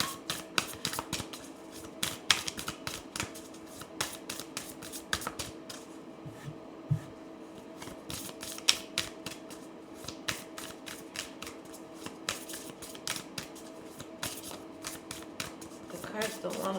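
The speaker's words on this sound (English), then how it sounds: "The cards don't want to be shuffled." A deck of tarot cards is shuffled in quick, papery riffles and snaps that repeat irregularly throughout, close and fairly quiet, with a voice talking softly underneath at times.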